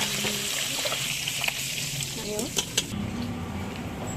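Fish frying in a pan, a steady sizzle with liquid gurgling and a few brief sharp clinks over it.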